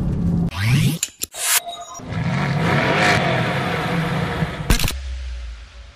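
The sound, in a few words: Mercedes-AMG GT S 4-liter V8 engine revving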